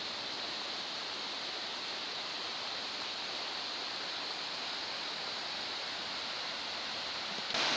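Creek water rushes through a canyon in a steady, loud, broadband wash, close and unbroken throughout with no voices.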